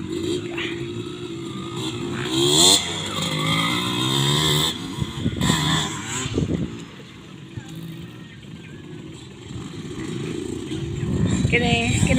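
Motocross motorcycles race at a track in Bohol, their engines revving and whining up and down over a continuous rumble, mixed with nearby people talking.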